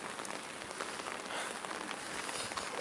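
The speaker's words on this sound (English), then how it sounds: "It's raining outside." Rain falls steadily outside on a cold, wet day, a soft continuous patter of drops on surfaces, fairly quiet and even throughout with no voices.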